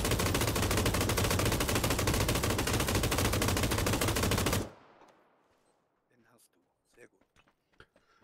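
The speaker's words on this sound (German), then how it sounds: "Es gibt nichts, was mehr Frieden schafft als 120 Schuss aus einer MG" Sustained machine gun fire in PUBG, a dense, loud, rapid burst lasting about four and a half seconds, then cutting off to near silence with a few faint distant shots and small thuds.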